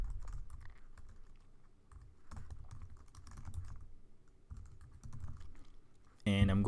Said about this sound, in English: So first I'm just going to type a header